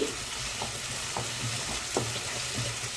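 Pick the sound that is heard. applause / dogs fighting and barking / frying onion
frying onion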